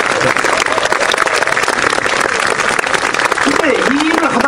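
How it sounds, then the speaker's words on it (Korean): Lecture-hall audience applauding city council members, a dense steady wash of many hands clapping throughout, with a voice briefly audible near the end. "여기 시의회 의원들을 해서 다시 한번 힘차게 박수를"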